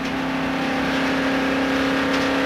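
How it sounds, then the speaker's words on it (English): A damaged Valvoline Ford stock car engine, apparently blown, holds a steady strained drone around 4,000 RPM in fourth gear during the 1992 Hooters 500, a continuous loud tone with no talk over it. "And you can hear the engine running."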